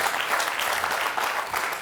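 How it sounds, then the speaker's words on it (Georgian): A studio audience applauds steadily and enthusiastically, a dense wash of clapping hands throughout. "გავამხნევოთ აპლოდისმენტები კიდევ ერთხელ"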